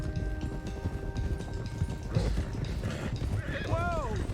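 Horses in the Red Dead Redemption 2 video game, their hooves clip-clopping under game music and talk, then a loud rising and falling neigh near the end.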